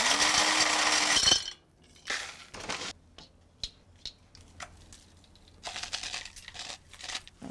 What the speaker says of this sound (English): So basically, I use the KitchenAid grinder.